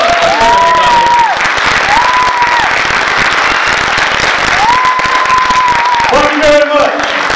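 A live audience at a Q&A show with comedian Charles Fleischer applauds and cheers, a dense, steady wash of clapping and crowd noise throughout, with tonal whistles or voices rising above it at moments.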